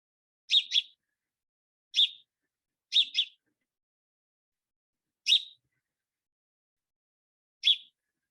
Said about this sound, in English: This is a call to house sparrow, and you can see how the call matches this spectrogram